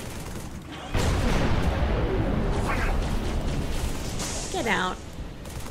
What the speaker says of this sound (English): That gun's been firing nonstop.